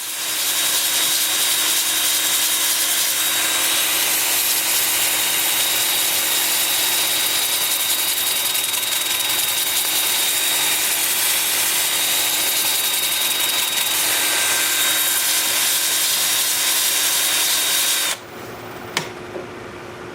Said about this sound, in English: And now I'm just sanding in reverse with an 80 grit disc.